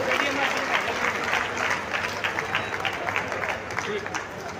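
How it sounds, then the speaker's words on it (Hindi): A rally audience claps for leaders seated on stage at the Vaishya Sankalp rally in Jind, a dense continuous wash of applause that stays loud throughout, with voices mixed in. "आप लोग एक बार जोरदार तालियां बजाकर जो है इनका अभिनंदन करें।"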